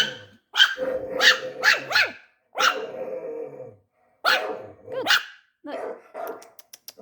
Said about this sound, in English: that's a big dog bark.